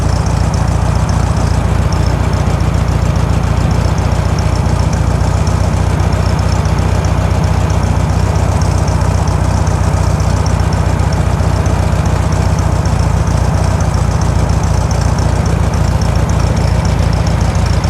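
A 1964 VW Beetle with a 1600cc engine idles loud and close, a steady air-cooled rumble with an even, rapid low pulse held for the whole stretch and no voices over it.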